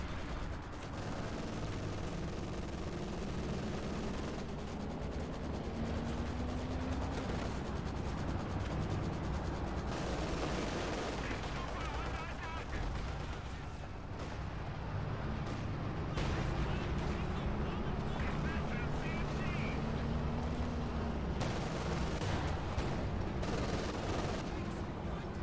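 Heavy anti-tank guns in a tank battle video game boom again and again amid a steady, dense din of battle noise and engine rumble. A voice talks faintly over the top of it throughout.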